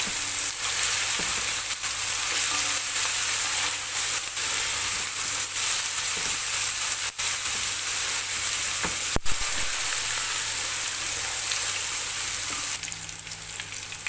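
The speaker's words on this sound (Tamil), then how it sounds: "இஞ்சி பூண்டை பச்சை வாசனை போகிற வரைக்கும் நல்லா வதக்கி விட்டுருங்க." Ginger and garlic sauté in a pan for Saudi kabsa with a loud, continuous sizzle, broken by a few faint stirring scrapes and clicks.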